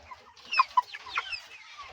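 Several short, close clucks from Australorp chickens on a farm, sounding in quick irregular bursts with no talking.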